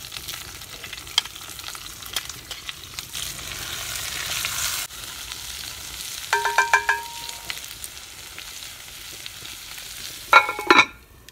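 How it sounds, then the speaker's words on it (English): Chopped onions sizzle steadily in a hot cast-iron Dutch oven over a fire, a soft continuous crackle with a few sharp metallic clinks and scraping sounds. "Just let that sizzle for a while."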